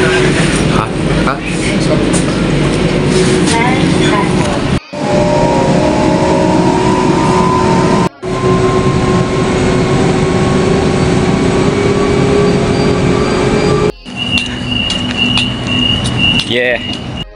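A train rumbles steadily along on the way to Rooty Hill station in Sydney, a loud continuous interior drone with a few brief dropouts and voices talking over it.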